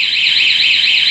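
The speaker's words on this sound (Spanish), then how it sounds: "la alarma genera la alerta sonora y de direccionales" Motorcycle alarm on a Pulsar 200 FI with fuel injection, sounding a loud, steady siren that sweeps up and down in a regular rhythm, close and continuous with no talk.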